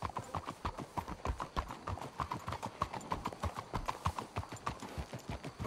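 Horses' hooves clip-clop in a steady, brisk rhythm in the video game Red Dead Redemption 2. Several hooves strike in quick succession, fairly close and crisp, with no voices.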